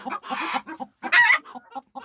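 Hens clucking and squawking close by in a poultry yard, a run of short agitated clucks broken by a louder squawk in the middle.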